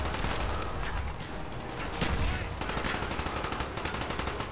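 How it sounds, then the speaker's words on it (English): Dense bursts of rapid automatic gunfire from the Black Ops video game, loud and continuous with repeated rattling volleys and no talk over them. "I'm shooting all of the scientists again."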